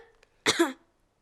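A cartoon character gives a single sharp cough, one short, loud burst, close up and alone against near silence.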